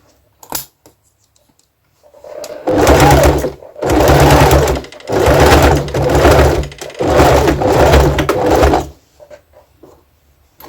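A sewing machine stitches straight over pins left in the fabric, running in four steady bursts of loud motor whir with short pauses between, close by and without talk.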